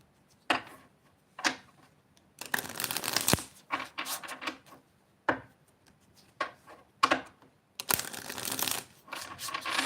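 Tarot-style cards shuffled by hand for a card reading, close riffling bursts and soft slaps coming in irregular clusters with quiet gaps between, alone without talk.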